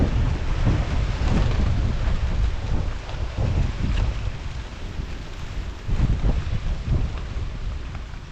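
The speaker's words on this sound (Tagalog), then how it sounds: "malakas po ang hangin sa ating area" Strong wind roars steadily against the microphone in a string bean garden, with loud gusting rumbles and buffeting throughout.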